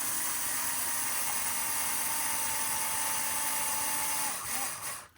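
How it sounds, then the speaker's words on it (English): A power drill drives screws into new plastic parts of a Tamiya TT02 Porsche 911 GT3 992 RC car kit, a loud continuous whine held steady for several seconds before winding down. "Get them all started with the drill and then go back by hand"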